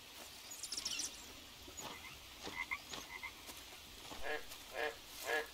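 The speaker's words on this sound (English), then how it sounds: "Poison frog, goodbye to you too" Poison frogs croak in the Amazon jungle of the survival game Green Hell, a series of short chirping calls of varying pitch over a faint ambient bed, fairly close and quiet, with no speech.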